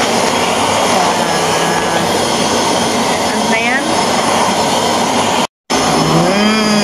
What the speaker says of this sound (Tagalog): Tunog ng vacuum yun, ano.